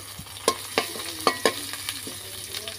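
Chilies, green chilies, chopped onion, garlic and bay leaf fry in soybean oil in a pan, a low sizzle broken by several sharp scraping or stirring knocks spaced irregularly.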